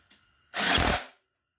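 Power tool briefly whirs to run down an oil pan bolt on a Case D engine, a single loud half-second burst that spins up sharply and trails off, no voices.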